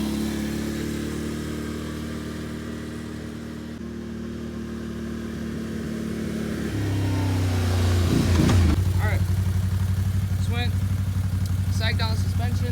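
A 2022 Can-Am Outlander 570 ATV engine idles with a low, steady drone, then climbs in pitch and loudness as it revs and pulls away, staying close throughout.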